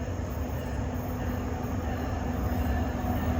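An NJ Transit train approaches Ramsey station on a hot afternoon rush, a continuous heavy low rumble with a faint steady whine over it, loud and unbroken.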